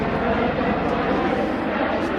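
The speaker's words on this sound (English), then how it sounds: "We're gonna let this helicopter fly by because he being loud as shit" A helicopter flies by overhead outdoors, a loud, steady, dense rotor and engine roar that fills the whole stretch without fading.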